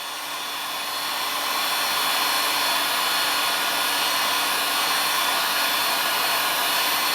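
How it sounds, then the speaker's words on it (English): A heat gun blows steadily on Velcro adhesive for a pedalboard, giving a loud, continuous airy whoosh close by that holds unchanged throughout. "Then take the heat gun and stay on the Velcro until you see it turn a real nice gloss color."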